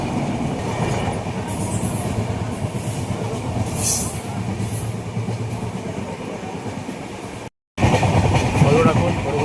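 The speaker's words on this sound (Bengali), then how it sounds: "এই ট্রেন ছেড়ে দিল আমাদের, উদ্দেশ্য আম্বালা।" Howrah-Amritsar Mail passenger train pulling out of a station toward Ambala, a steady loud rumble of rolling wagons with rhythmic wheel clatter and occasional squeal, voices faintly under it and a brief dropout near the end.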